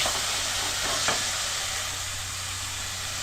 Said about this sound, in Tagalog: Lagyan natin ito ating chicken breast.